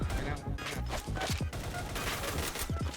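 Sniper rifle shots in the shooter game PB: several sharp, fairly faint cracks and bursts spread unevenly through a busy in-game soundscape, with a voice talking over them.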